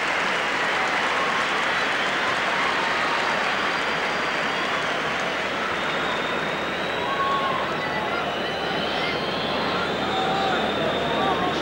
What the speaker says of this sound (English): And look, the crowd are thrilled.